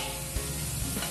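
Mughlai paratha filling with peanuts frying in a pan as it is stirred, a steady close-up sizzle running on with a couple of soft scraping knocks and no voices.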